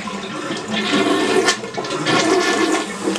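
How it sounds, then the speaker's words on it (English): A toilet flushes with a loud, steady rush of water that churns continuously for a few seconds, during Hurricane Irma. "I shouldn't have flushed the toilet"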